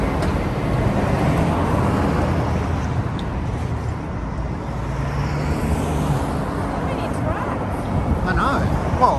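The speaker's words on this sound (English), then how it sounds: "all the trucks are so noisy" Heavy trucks and traffic rumble past continuously along a busy main road near Fussa and Yokota Air Base, a loud, steady roar running the whole time with people talking over it.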